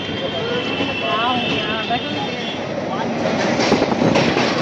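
A train pulls out of Dakshineswar railway station with a loud, close, continuous rumble and rattle that holds steady and swells slightly toward the end.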